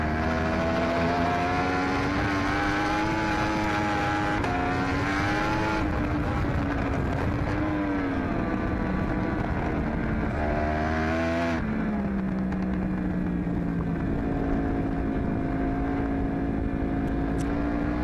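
Onboard sound of a superbike racing motorcycle at Mid-Ohio, the engine screaming at high revs with rising pitch through the gears, short drops at shifts, loud and continuous.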